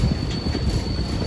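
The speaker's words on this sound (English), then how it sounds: "So this is our subway station." Rumbling train noise with a faint steady whine rolls through an indoor subway station set on the Universal Studios Hollywood back lot, a continuous low rumble without talk.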